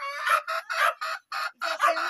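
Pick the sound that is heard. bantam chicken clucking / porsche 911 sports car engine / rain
bantam chicken clucking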